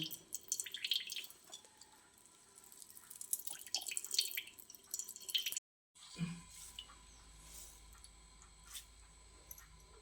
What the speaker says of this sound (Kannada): ಈ ರೀತಿ ಬಟ್ಟೆಯಲ್ಲೇ ಹಾಕಿ ಸೋಸ್ಬೇಕು